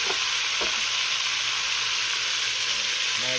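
Beef sears loudly in a very hot pot, a dense steady hiss and crackle of frying close by, with a few faint knocks underneath and no speech.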